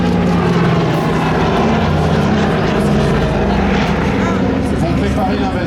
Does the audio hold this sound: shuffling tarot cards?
no